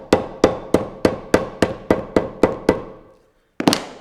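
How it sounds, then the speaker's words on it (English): Hammer beating on leather over an anvil while making a mule shoe: ten sharp, evenly spaced strikes close by, then a short pause and one more blow. "I'm just going to take this impression with my hammer"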